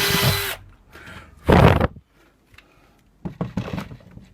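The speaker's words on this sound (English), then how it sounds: "drill through the board." A power drill boring through a model railway baseboard, heard as a few short, loud, close bursts with quiet gaps and some handling clatter between them.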